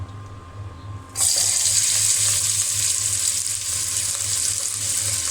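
Chopped onions land in hot oil for a fish curry and break into a loud, steady bright sizzle that continues without a pause, with a faint low hum running beneath it.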